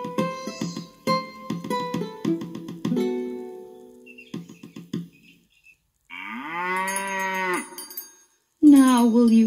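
A cow in a pasture gives two long, drawn-out moos in the second half, near and loud, after a stretch of shorter tonal sounds.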